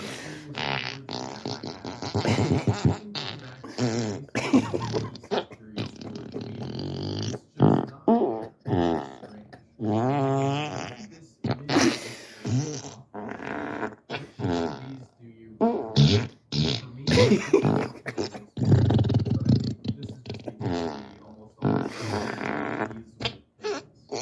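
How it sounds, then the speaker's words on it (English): An Amazon Echo Dot plays a rapid string of fart sound effects, loud and close, the wet raspy blasts and squeaks following one after another with barely a pause. "Fart 34 times in a row. 34 farts coming your way."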